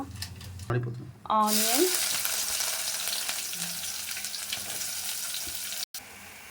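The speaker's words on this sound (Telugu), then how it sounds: "ఆనియన్స్ ఇలా గోల్డెన్ బ్రౌన్ కలర్ వచ్చేదాకా మనం ఫ్రై చేసుకోవాలి." Onions frying in hot oil in a kadai with cinnamon and spices for Telangana-style chicken curry, a loud close sizzle that flares up suddenly after a brief clink, then settles into a steady crackle.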